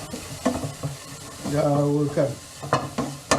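Anchovies stirred and scraped in a hot frying pan, sizzling and frying in short bursts with a steady fry in the middle, close up.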